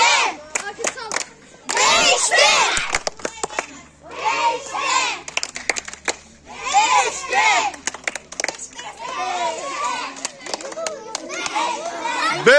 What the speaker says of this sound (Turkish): Seyirciler burada hep birlikte tezahürat yapıyorlar